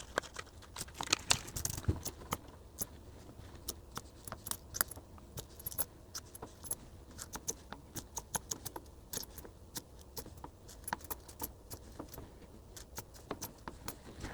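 Coins from an opened roll being handled and sorted, with frequent close metallic clinks and jingles scattered throughout at irregular intervals over a soft background.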